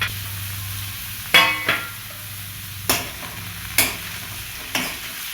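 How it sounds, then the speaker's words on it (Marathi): Cauliflower and potato pieces stir-fried with onions in a pan, a steady sizzle broken by five sharp scraping stirs of the spatula spaced about a second apart, close and fairly loud. "आता हे गोबी आलू आपण याच्यातनी छान परतून घेऊया."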